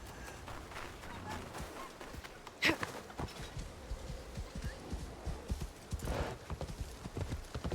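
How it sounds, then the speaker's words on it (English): Horse hooves clip-clopping in a quick, uneven rhythm, fairly close, with a sharper clatter partway through and some faint voice in the background, in the video game Assassin's Creed Shadows. "That's crazy. This is Yasuke's horse"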